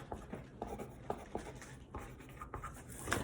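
A pencil that works poorly scratches across paper in short, faint strokes, repeated irregularly with soft taps and a light hiss in a quiet room.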